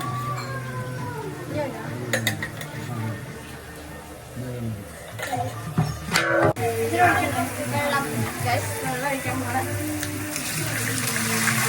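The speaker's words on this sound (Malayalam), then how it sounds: "വെള്ളം ഒഴിക്കുകയാണ്." Water pours steadily into a pot of tomato and spice masala amid kitchen clatter and occasional clinks, with a voice talking over it and background music.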